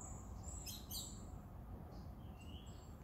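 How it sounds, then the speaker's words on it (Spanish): Sparrows chirp in short, high bursts against steady outdoor background noise, a quick cluster of calls near the middle and fainter scattered tweets afterward, with no talking. "Están ahí y en los bancos ahí también, gorriones."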